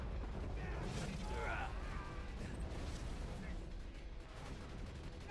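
An automatic gun turret in a video game rattles off continuous fire amid dense, loud game action with mechanical clatter and booming effects throughout.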